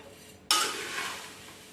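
Dry poha chivda tossed together with crunchy peanuts gives one sudden rustling, scraping sweep that fades out over a second, close and alone.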